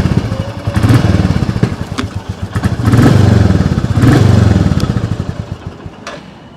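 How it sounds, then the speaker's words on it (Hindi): A 2022 Royal Enfield Classic 350 motorcycle idles close by with a loud, thumping single-cylinder exhaust beat, rising in a few short blips of throttle before settling back, with no talking. "अब एक बार एग्जॉस्ट नोट भी सुन लें थोड़ा सा।"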